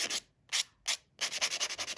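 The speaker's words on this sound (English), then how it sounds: "we are going to start with giving our nails a buff" Nail buffer rubbed briskly across fingernails before a dip nail application, heard as three separate short bursts of dry scrubbing followed by a fast run of rhythmic back-and-forth strokes, close and clear.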